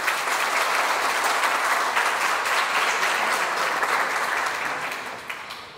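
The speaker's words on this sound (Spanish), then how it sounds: "Aplausos, por favor." Sustained audience applause at a ceremony honoring an engineer, a dense, steady wash of many hands clapping throughout that begins to thin slightly near the end.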